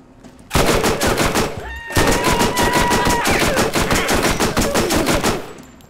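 A combat rifle fired from the hip in Borderlands rattles off two loud, rapid automatic bursts, close and dense, split by a brief pause, with no speech.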